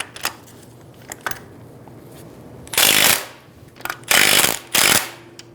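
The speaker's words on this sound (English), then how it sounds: "Using a 17mm socket, we're going to loosen the nut on the top of the strut" A ratchet on a 17mm socket loosens the front strut top nut of a 2010–2014 Subaru Outback in three quick bursts of dense clicking, separated by quieter pauses with a few light taps, close and without talk.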